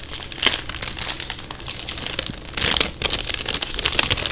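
Cellophane packaging being opened, steady close crinkling and crackling throughout, louder bursts of rustle as the wrapper is handled.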